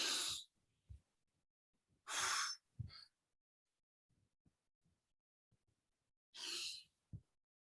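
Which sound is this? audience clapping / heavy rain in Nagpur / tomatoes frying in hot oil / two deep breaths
two deep breaths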